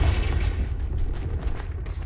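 A Confringo blasting spell in Hogwarts Legacy, a loud booming explosive rumble with heavy low-end crackle that rolls on for a couple of seconds.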